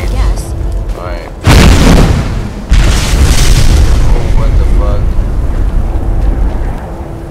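Bombs explode in Skyrim: two heavy, close booms a second apart roll into a loud, sustained rumble, with someone talking over the noise.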